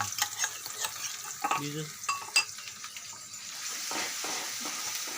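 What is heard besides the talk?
stirring tomato, chili and masala mixture in pan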